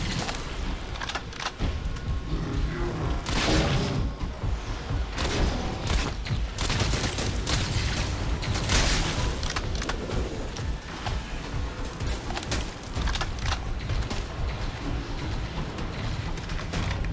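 Rapid turret gunfire in the Crysis 3 video game, dense bursts of shots and impacts rattling on continuously at close range, with brief pauses and a few heavier booms mixed in.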